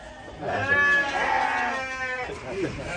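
A giant cow named Amazon lows and bellows as it leaves its pen at Lestari Farm, a couple of loud drawn-out calls close by, with farm background noise around.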